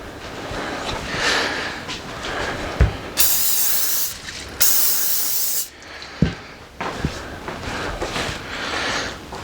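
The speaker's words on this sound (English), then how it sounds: "Let's spray it down and get our mixture in there." Cooking oil spray hisses onto a hot chaffle maker in several short bursts, sharp and close, separated by quieter kitchen background noise and small clicks.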